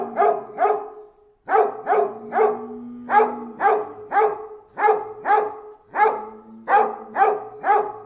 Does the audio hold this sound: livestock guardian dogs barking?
yes